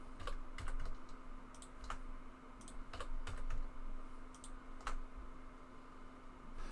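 Rapid clicky keystrokes on a computer keyboard, with occasional mouse clicks, during 3D modelling work in Blender; short bursts of taps in irregular clusters over a steady low electrical hum.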